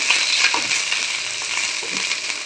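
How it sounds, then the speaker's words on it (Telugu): Curry leaves sizzle in hot oil for a curry leaf pakora-style spice mix, a steady crackling hiss close up with soft stirring scrapes, no voices. "ఆయిల్లో ఇట్లా కొంచెం వేపుకున్నాం"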